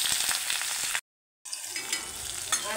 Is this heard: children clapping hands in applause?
no